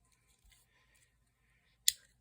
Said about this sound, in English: Let me test out the scissors.